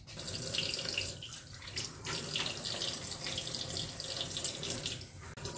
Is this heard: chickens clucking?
no